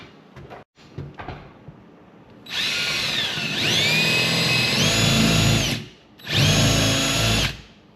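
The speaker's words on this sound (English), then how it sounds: "So I'm going to drill a 5/8 or 3/4" hole there and then flush trim that." A power drill with a very dull bit whines loudly as it bores a 5/8 or 3/4 inch hole in a woodshop, running in a long sustained burst with pitch shifts, stopping briefly, then spinning up again, after a few light knocks.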